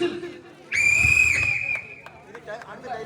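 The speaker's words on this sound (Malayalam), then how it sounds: "ആദ്യ വിസിൽ" A referee's whistle at a tug of war match blows one loud, sustained shrill blast lasting under a second, then fades into crowd murmur, with a few short chirps trailing after.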